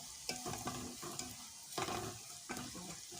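Tomato sauce with smoked paprika fries in a pan after garlic, sizzling steadily while a spoon scrapes and stirs in quick repeated strokes, faint and close, with no voices.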